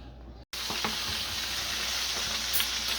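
A thick tomahawk steak sizzles loudly and steadily in a hot pan, with popping fat crackling throughout after a brief dropout at the start.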